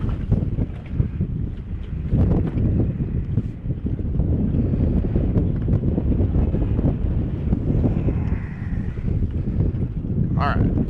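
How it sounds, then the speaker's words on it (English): Strong wind gusts hard over a boat in a channel at the Narrows, a loud, constant buffeting roar battering the microphone, with a brief voice heard near the end. "That wind is mean."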